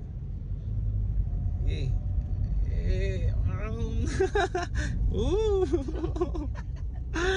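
A car being driven on the road, a steady low engine and road rumble throughout while people inside talk and laugh over it.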